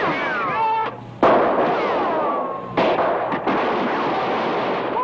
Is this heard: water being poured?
no